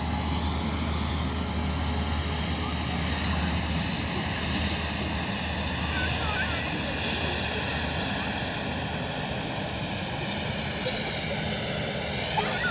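An airliner at Edinburgh Airport roars continuously, a broad, steady engine rumble holding at close range for the whole stretch with no break.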